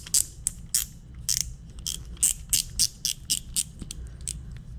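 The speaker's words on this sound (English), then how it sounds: "I always usually loosen the drag as much as I can all the way" Drag knob being loosened on an older Shimano Bantam baitcasting fishing reel: a quick series of about a dozen sharp metallic clicks in an uneven rhythm, close and distinct over a low background hum.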